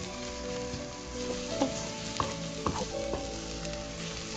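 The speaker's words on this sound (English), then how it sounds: "Keep on mixing till the tomatoes become soft" Tomatoes fry for a pork curry masala, giving a steady, loud sizzle throughout, with scraping stirs of a spoon or spatula against the pan breaking through now and then.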